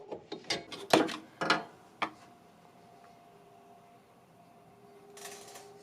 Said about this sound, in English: Extend the spring forward and remove it from its notch on the pulley mount, and then remove the spring out the back